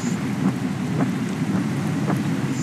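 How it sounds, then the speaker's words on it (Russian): Steady rain pours down in the driving game Motor Depot, a dense, continuous hiss with a few faint low rumbles like distant thunder, even throughout and with no voices. "что-то дождик идет"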